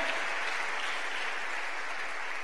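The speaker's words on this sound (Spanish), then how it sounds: "Démosle palmas al Señor." Congregation clapping during a church sermon, a steady, even wash of applause that stays at moderate level throughout.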